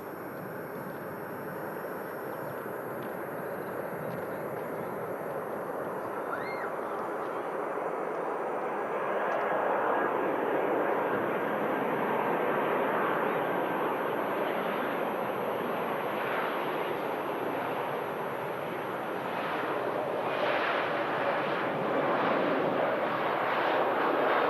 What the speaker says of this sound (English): the first arrival in from Helsinki. Finnair Embraer 190